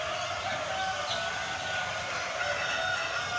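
A flock of chickens and separately kept roosters fills a poultry farm in the Jamalganj area of Joypurhat, a steady dense murmur of clucking and calls close by, with no speech.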